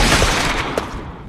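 Loud, close gunfire crackles in a dense burst through an edited game clip, a rapid fusillade of shots blurring into one harsh wash with one sharper crack near the end.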